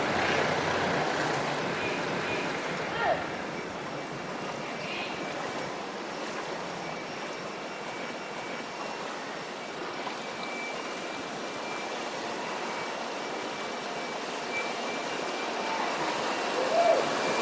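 Strong floodwater waves during a typhoon in Metro Manila, a continuous loud rushing and churning wash of water with no break, fairly close.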